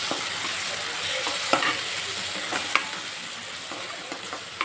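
Tomato with turmeric sizzles in a pan under a close, steady fry, broken by several sharp scrapes and clicks as a spoon stirs it.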